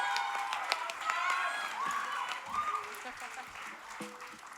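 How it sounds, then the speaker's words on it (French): Audience applause at a concert, scattered clapping from a small crowd with shouts and a voice talking over it, fading gradually. "Un tonnerre d'applaudissements."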